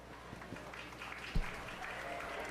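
Spectators at a 4-H fair sheep show clap for a pair of exhibitors, a soft, fairly distant patter of applause with one sharp knock partway through and a low background hum.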